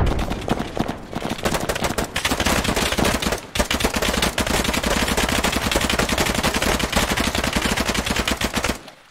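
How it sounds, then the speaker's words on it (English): Dense, continuous automatic gunfire crackles from the video game Arma 3, rapid and loud with only brief pauses, then cuts off abruptly. "Gunshots northwest building."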